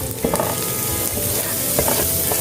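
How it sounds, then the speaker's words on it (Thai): Chili and garlic stir-frying in a hot pan for a Thai seafood chili-salt dish, a steady close sizzle with scattered scraping stirs and no talk. "ผัดให้หอมเหมือนกัน มาต้องให้พริกหอมหน่อยนะคะ"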